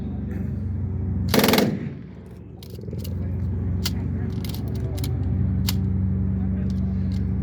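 An M60 machine gun firing blanks at an outdoor small arms demonstration during a military vehicle tank parade: a loud, close rapid burst, then scattered single shots and rattles over steady engine rumble and crowd noise.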